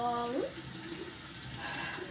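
Tap water runs steadily into a bathroom sink while it warms up for a nighttime face wash, a soft continuous hiss and splash close by, after a brief tonal sound at the start.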